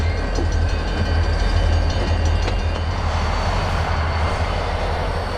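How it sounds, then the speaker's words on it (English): Norfolk Southern local freight switching at an industrial park on a May morning, led by an ex-Union Pacific SD40-2 and a rebuilt former Southern high-hood diesel: a loud, steady low diesel rumble with mechanical hum, no voices. "Power for this train consisted of an ex-Union Pacific SD40-2 and a former Southern high hood, now rebuilt with an Admiral cab."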